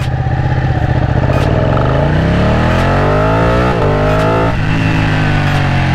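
Ducati 899 twin-cylinder motorcycle engine revving hard as it accelerates, loud and close, pitch climbing steadily through gear changes with a throaty, pulsing exhaust note and no talking.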